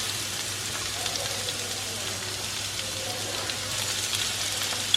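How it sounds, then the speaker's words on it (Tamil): Chopped onion, capsicum and green chilli sauté in hot oil in a pan, giving a steady, soft sizzle and crackle throughout with no talking. "இந்த மூணுத்தையும் ஆட் பண்ணிடுங்க. ஆட் பண்ணிவிட்டு இது வந்து ஒரு 2 minutes வந்து சாட்டே ஆகட்டும்"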